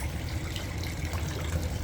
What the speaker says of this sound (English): The water coming out's louder than the engine itself.